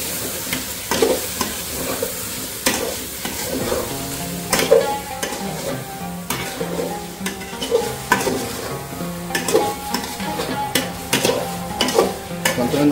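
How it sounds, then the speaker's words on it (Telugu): Biryani ingredients are stirred in a pot over heat, a spoon scraping and clinking in a repeated rhythm against the metal while frying sizzles underneath, close and clear with no talk. "వేసాక బాగా కలిపేద్దాం"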